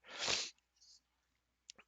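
A single loud, close sneeze bursts out, followed by a quiet sniff and a couple of faint breathy noises.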